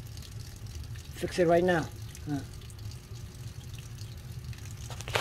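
Water runs constantly from a leaking hot water tank, a low steady flow heard beneath someone talking close by.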